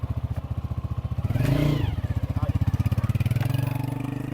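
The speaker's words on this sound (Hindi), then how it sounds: "तारिक साहब की मोटरसाइकिल जो है ना वो जल्दी से स्टार्ट हो गई है" Tariq Sahab's motorcycle engine runs close by in a steady, rapid thumping idle, revving briefly midway before settling back into its even chugging pulse, with no voices over it.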